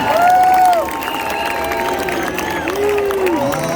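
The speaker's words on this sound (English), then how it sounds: "Give them a big round of applause, ladies and gentlemen." A large outdoor crowd at a freedom rally in Perth claps and cheers in a steady, distant wash of sound, with scattered shouts and tonal calls rising over it.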